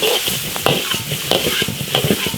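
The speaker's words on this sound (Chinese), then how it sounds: "把猪肚炒香。" Pork tripe stir-fried in an iron wok with garlic, ginger, scallion and pickled chilies sizzles steadily, with repeated scraping strokes of the spatula against the metal.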